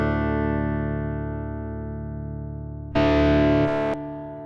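A Tech 21 PSA 2.0 SansAmp pedal with cab sim off gives a harsh, buzzy sustained guitar tone that slowly fades, then jumps into a brighter, louder fizzy burst near the end before dropping back.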